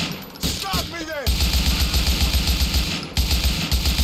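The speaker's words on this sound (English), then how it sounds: "I know like the more you shoot the less accuracy it has" Gunfire in GTA IV The Ballad of Gay Tony, rapid sustained automatic bursts, loud and close, with a short break, after a brief vocal or effect sound at the start.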